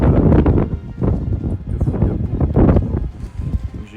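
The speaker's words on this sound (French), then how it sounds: "Il y a énormément de vent." Strong mountain wind buffets the microphone on a trek in the Néouvielle reserve, coming in loud, rough gusts that surge and fade repeatedly with low rumbling bursts.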